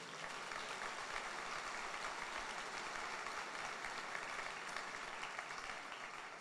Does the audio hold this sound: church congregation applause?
yes